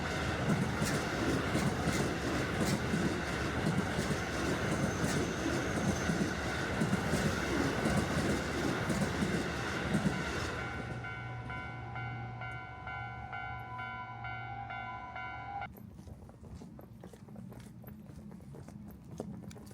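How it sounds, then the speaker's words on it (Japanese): A Keio Line train rumbles through a railroad crossing beside rice paddies in suburban Tokyo, a steady clattering roar at moderate distance that fades, leaving faint crossing bell tones and outdoor ambience. "京王線の踏切を渡りますよ。"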